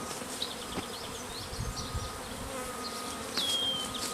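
A close, continuous drone of honey bees knocked loose from a hive frame during requeening, with one sharp, louder buzz near the end.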